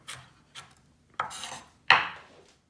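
Knife dicing carrot on a cutting board, four crisp chopping strikes spaced about half a second apart, the later two louder and closer.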